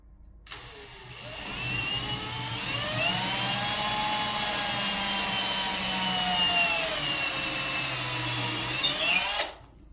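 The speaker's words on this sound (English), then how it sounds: "I'm kind of letting the drill do the work" A power drill bores dowel holes into poly panels, whining at a steady pitch for about nine seconds with a slight rise and fall in speed, then cutting off abruptly.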